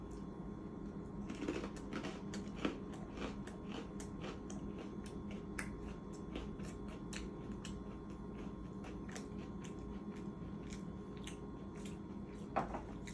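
Someone eating Cheetos Pretzels, quiet close crunches and chewing clicks repeating irregularly through a faint background hum.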